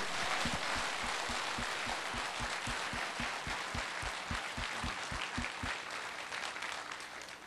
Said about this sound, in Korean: 우리 다 같이 하나님께 영광의 박수 드립니다